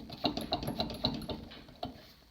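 Rare Subaru Forester top hats shaken by hand, producing a quick, close series of small metallic rattles and clicks in a rapid rhythm that slows and fades after a couple of seconds.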